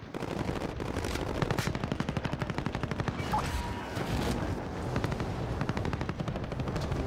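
Rapid automatic gunfire in a Warzone plunder match on Caldera, continuous bursts of fast repeating shots over several seconds with a busy battle mix behind them.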